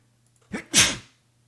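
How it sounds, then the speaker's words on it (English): A single close human sneeze in two parts, a short sharp intake followed by a louder explosive burst, set against near silence. "I missed as my body convulsed and I sneezed"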